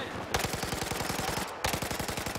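A teammate's automatic weapon fires in Battlefield 4, two long rapid bursts of evenly spaced shots with a brief pause between them, steady and moderately loud.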